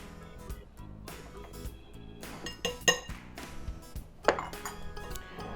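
A spoon stirs a seasoning mix of seasoning salt and black pepper in a bowl for spicy Nashville fried chicken, giving repeated light clinks and scraping against the dish, close, with a couple of sharper taps.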